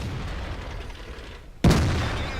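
A single heavy tank cannon shot in a World of Tanks-style battle, fired at a T-32, with a sudden loud boom breaking a low ambient rumble and a decaying roar afterward.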